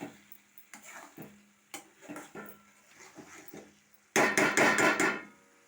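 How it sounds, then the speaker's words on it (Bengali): Egg paneer stir-fried with spices in a pan, heard as scattered scraping and knocking of a spatula against the pan, then a burst of louder rapid clatter near the end, with no talk. "এই মশলার সঙ্গে আমি পনিরটা একটু কষিয়ে নেব"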